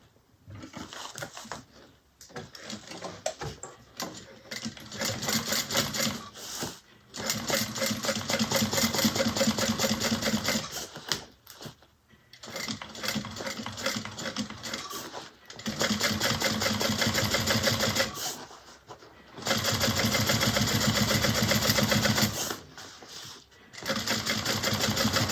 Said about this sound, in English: And then we're going to top stitch.